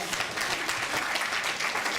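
Applause from an audience at a Republic Day gathering in a Hindu temple, a short burst of dense, even clapping filling the space.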